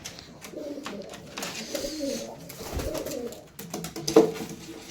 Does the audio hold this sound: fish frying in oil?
no